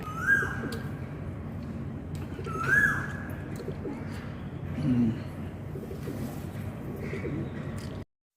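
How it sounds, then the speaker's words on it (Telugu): An Asian koel calls in the morning, giving two rising whistled notes near the start against a quiet, murmuring background, then softer bird sounds that trail off. "ఇలాగా కోయిల గొంతు వింటూ"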